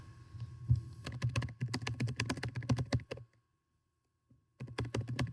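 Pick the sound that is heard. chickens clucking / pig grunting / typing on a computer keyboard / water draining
typing on a computer keyboard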